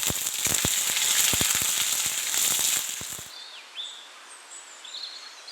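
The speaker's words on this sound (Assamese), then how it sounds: "এতিয়া মছলাখিনি ভালকৈ ভাজি লৈছোঁ" Sliced onions, bay leaves and five-spice seeds sizzle loudly in hot oil in a wok-like kadai, crackling and popping for about three seconds before stopping abruptly, leaving faint birdsong in the background.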